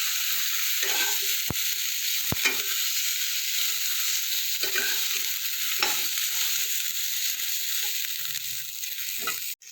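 Winter vegetables frying with turmeric in a pan make a loud, continuous hiss, with scattered stirring scrapes and two sharp utensil taps early on.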